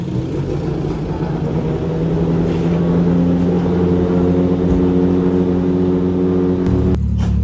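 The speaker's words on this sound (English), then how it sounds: "the GT1 has started up" A Le Mans GT1 race car engine fires up and settles into a loud, steady, deep idle close by, holding its rumble throughout before a shift in tone near the end.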